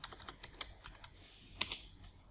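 Password typed on a computer keyboard while joining a PC to a domain: a quiet run of light, irregular key taps, with a couple of sharper, louder keystrokes near the end.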